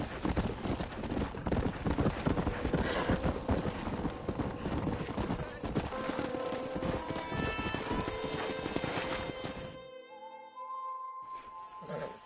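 Horse hooves clip-clop steadily over ground with rustling movement in the video game Red Dead Redemption, then a snort and faint tonal music as the trotting stops near the end.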